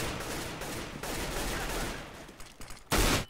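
Rapid automatic gunfire from the video game CS:GO, a dense sustained volley of shots followed by a short louder burst near the end, with no voices over it.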